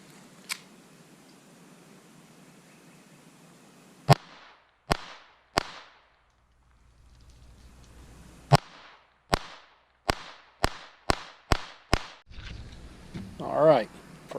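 Sharp gunshots from a Walther P22 .22 pistol being test-fired: two early shots, a pause, then a rapid string of about eight close, loud reports, with faint background noise between.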